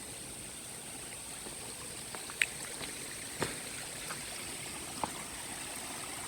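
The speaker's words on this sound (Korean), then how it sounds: "보세요, 여기 입구인데 물 흐르잖아 여기." Water runs faintly and steadily at the entrance of an old well in a Seoul mountain fortress, a low continuous trickle with a few soft clicks and knocks over it.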